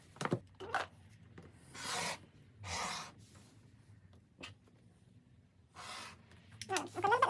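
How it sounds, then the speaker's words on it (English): Fabric being cut for bias binding after folding it at 45 degrees, with several separate rasping snips and rubbing bursts spread across the clip, close and fairly quiet, no voices. "And then I'm going to cut down there."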